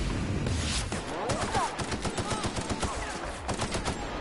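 Rapid bursts of gunfire in The Outer Worlds, a dense rattle of automatic shots in steady rhythm, loud and close, with a voice talking briefly over it.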